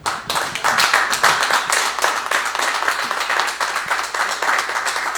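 Live audience at a comedy club clapping and cheering for a stand-up comedian leaving the stage, with loud, close, rapid claps that stay strong throughout.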